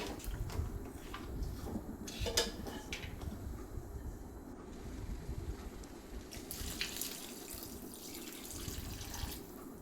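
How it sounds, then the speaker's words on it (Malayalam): Water poured from a small cup into a cooking pot to steam chopped banana stem, a steady splashing, trickling rush heard close up for the whole stretch with no talking. "ഇപ്പം നമ്മൾ വെള്ളം ഒഴിച്ച് കൊടുത്തിട്ടുണ്ട്."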